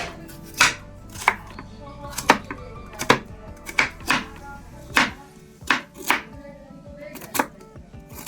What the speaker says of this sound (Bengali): এবার এগুলোকে একটু চটপট করে কেটে নিই